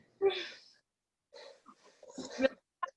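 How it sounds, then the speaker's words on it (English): Heavy breathing during a guided workout: a sharp exhale, then ragged in-and-out breaths and a strained push of air, close and fairly loud with silent gaps between. "I can hear you breathing."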